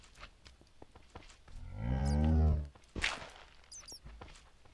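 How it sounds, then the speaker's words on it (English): A cow in a video game gives a long, loud low moo that swells and cuts off, set among soft thuds and footstep-like taps in a quiet game scene. "And I hear something going moo moo moo."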